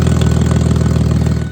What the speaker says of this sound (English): just listen to how crazy that exhaust leak sounds